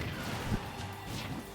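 A forward smash lands in a Super Smash Bros match, a sharp crashing impact followed by a brief whoosh against the game's background sound, close and fairly loud.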